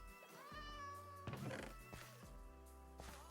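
A Minecraft cat meows several times in a survival game world, short rising and falling cries close to the listener, with a soft thump partway through.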